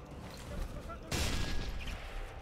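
A single sharp sniper rifle shot in Sniper Elite 3 cracks out abruptly mid-clip over low game ambience, with a brief rumbling tail afterward.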